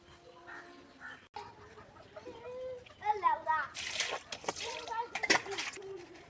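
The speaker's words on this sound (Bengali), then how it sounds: "মাছগুলোকে আমি ভালো করে ডলে ধুয়ে নেব।" Pangas and tangra fish are washed by hand in water under a tap, with intermittent splashing and rubbing that grows louder midway. Chickens cluck nearby, and voices can be heard in the background.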